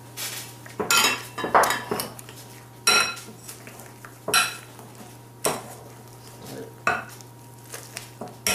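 Eggs being mixed into cooled potatoes for potato gnocchi: irregular bursts of utensil clinks and scraping against a bowl, close and moderately loud, with short pauses between strokes.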